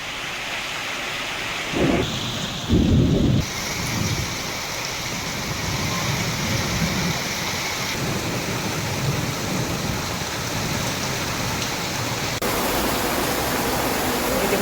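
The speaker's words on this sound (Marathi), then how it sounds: "पुण्याच्या भोर तालुक्यात वादळी वाऱ्यासह पाऊस बरसलेला आहे" Heavy pre-monsoon rain pours down with strong gusting wind in Bhor taluka near Pune, a dense continuous roar, while low thunder rumbles strongly near the start and the storm noise fills the scene throughout without any voices.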